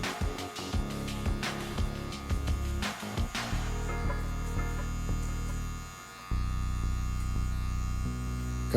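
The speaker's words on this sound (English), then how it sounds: "Continue with the neck area clipper over comb." Electric hair clipper buzzing steadily with a constant droning hum while cutting over a comb at the neck during a fade haircut, continuous and close with slight dips in level.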